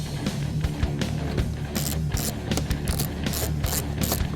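A hand ratchet tightens bolts on a Roush-kit factory air deflector of a 2013-2014 Ford Mustang, with rapid, close clicking in steady repeated bursts.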